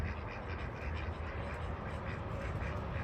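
Backyard ducks kept alongside chickens quack loudly and steadily, a dense overlapping chorus of several birds close by with no pauses.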